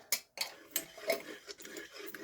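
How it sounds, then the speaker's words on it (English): Sourdough being stirred and mixed into water in a bowl, with a run of irregular scraping swishes and light utensil clicks against the container, quiet and close. "gonna give that a good mix."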